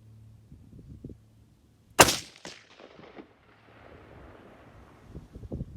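A single sharp rifle shot from a Weatherby Mark V Carbonmark, loud and close, with a brief echoing tail outdoors, preceded and followed by quiet handling and faint background noise.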